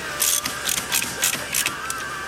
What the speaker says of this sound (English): your next step is to torque all your rod nuts